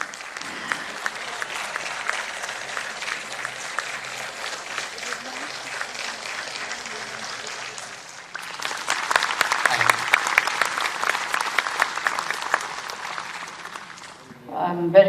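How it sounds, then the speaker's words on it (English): Sustained applause from a large audience at an Indian chit fund industry event, steady crackling clapping that swells louder and denser midway, then fades out near the end. "Look at the applause ma'am got."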